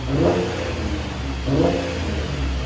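A 2012 Chevy Impala V6 revs through dual exhaust with resonator, a deep, throaty rumble swelling twice in quick bursts over a steady low drone.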